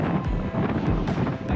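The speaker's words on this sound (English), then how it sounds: "Just to kind of give an idea of how windy it is" Strong, gusty offshore wind roars and buffets the microphone continuously, with surging low rumbles and brief lulls between gusts.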